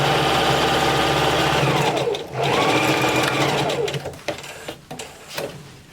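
A sewing machine stitches a double hem at a fabric edge, its rapid mechanical whirr close and steady at first, then slowing into shorter bursts and pauses.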